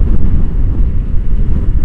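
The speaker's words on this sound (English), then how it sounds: "It is windy." Strong wind buffets the microphone in a continuous low rumble on a blustery day, loud and close with no one speaking.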